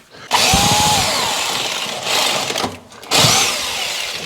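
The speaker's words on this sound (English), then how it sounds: "got to drill through there now." A loud power drill whirs in three bursts, its motor pitch dropping as it bites into wood, with short pauses between runs.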